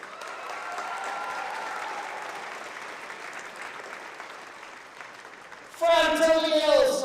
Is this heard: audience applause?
yes